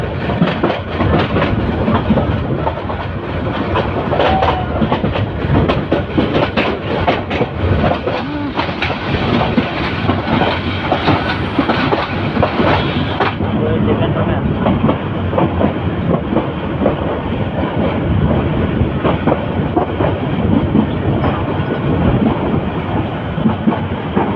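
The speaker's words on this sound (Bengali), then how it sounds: "এই যে ট্রেনটি বাঁক নিচ্ছে, বাঁক নিয়ে সামনের দিকে এগিয়ে চলছে।" A passenger train running on rails through Dhaka, rounding a bend near Kuril Bishwa Road toward Cantonment station. A loud, steady rumble with continuous clickety-clack of wheels plays throughout, and the tone shifts slightly partway through.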